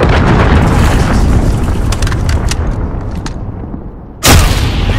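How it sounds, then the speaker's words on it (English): Cruise missile strike in Call of Duty: Modern Warfare Domination multiplayer: a loud, sustained rumbling roar of blast and debris fades slowly, then a second sharp, heavy explosion bursts in near the end. "Enemy cruise missile incoming."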